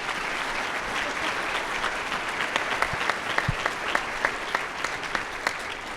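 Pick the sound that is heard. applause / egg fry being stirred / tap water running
applause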